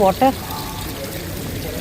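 Water flows and pours steadily inside a shopping mall, a soft continuous rush that follows a couple of short voices at the start.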